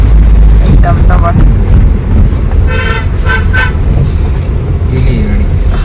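A car on a winding hill road with hairpin bends approaches and passes close by, its engine rumbling loudly throughout, with a few short horn toots midway while people talk nearby.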